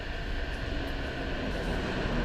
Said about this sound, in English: you can clearly hear where the tram is